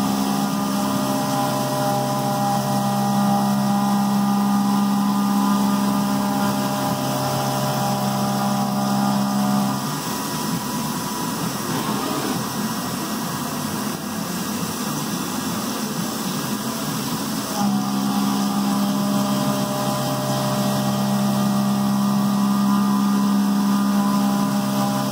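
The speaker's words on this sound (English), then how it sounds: "the next step is going to be the finish cut for the bore of the seal" A machine tool making the finish cut on the seal bore of a timing cover for a two-piece cover, a steady loud droning whine with tonal hum running throughout, dipping slightly midway, with no talking.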